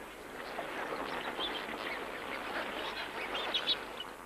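A tightly packed flock of flamingos massed by the shore of a soda lake during their breeding display, giving a dense, continuous honking and gabbling chatter, a loud wall of many overlapping calls with no talk.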